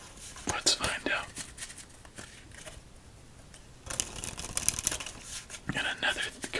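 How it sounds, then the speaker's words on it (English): Playing cards riffled in a casino-style shuffle for a solitaire game, two bursts of crisp flapping and rippling close to the mic, separated by a quieter pause. "it's usually during casino shuffles I kind of space out, enjoy the sounds"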